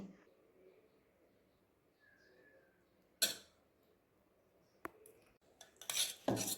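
A spoon works through grated cucumber in a bowl, quiet at first, then sharp clinks and scrapes against the bowl that grow busier toward the end.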